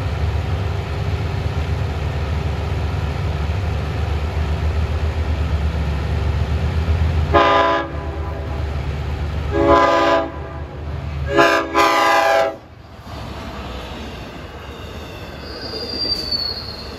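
A Central Branch Z train passes with steady rumble and squealing wheels, then sounds several loud, drawn-out horn blasts in separate bursts before the noise drops away.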